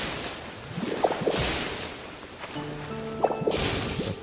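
Water dripping into a water collector in Pokémon Pokopia, faint plinking drops in two small clusters over soft, hissy background noise with no talk.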